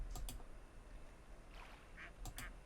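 Quacks from a cartoon duck in the pet-raising game Hundred Days, several short bright calls spaced across a couple of seconds over faint background noise, with no talking.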